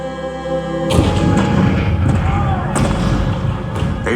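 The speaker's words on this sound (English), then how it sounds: "The cannons spoke for war." Cannon fire effect in a Disneyland show on Lincoln and the Civil War at Fort Sumter, a deep booming blast that opens with a sharp onset, then rumbles on with a few further thuds.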